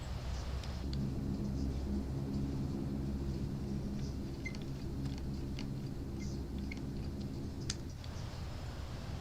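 Six-propeller Hercules aircraft engines in a flight simulator over Indonesia, a steady low droning hum that rises in and holds for several seconds, with faint clicking over it and no talk.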